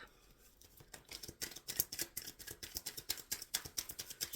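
Rapid, rhythmic riffling and snapping of tarot cards being shuffled close by, a quick steady run of crisp flicks with no talking.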